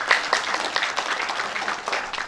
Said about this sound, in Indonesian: Tepuk tangan dong buat Tuhan Yesus.